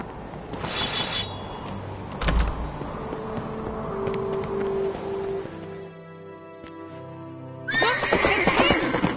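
A horse neighs and whinnies with hoofbeats clip-clopping in The Witcher video game, mixed with other game ambience and a short burst of neighing near the end.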